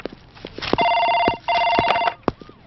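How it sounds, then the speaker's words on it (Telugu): An office telephone rings twice in quick succession, two loud electronic trills separated by a short gap, with a few knocks and footsteps around them. "మీకు ఫోన్."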